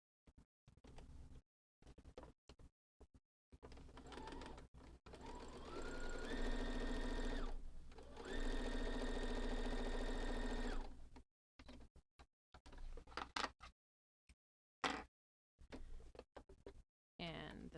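A sewing machine stitches across the top of a fabric boxed-corner bag. It runs in a long, steady, close burst with short stops, set between quieter start-and-stop moments.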